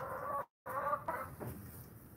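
Domestic chicken hen clucking nearby, a few short harmonic clucks with a brief silent gap partway through, then softer fading calls; no talk.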